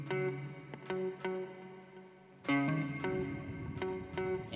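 An electric guitar with chorus and echo effects plays a song in a staccato picking pattern, with ghost notes between short, sharply cut chords; the chords fall in a steady rhythm, each ringing briefly before being muted.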